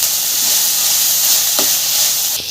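Onions fry with turmeric and ginger-garlic paste for a cauliflower curry, giving a loud, steady steamy hiss close up, with one soft utensil tap near the end.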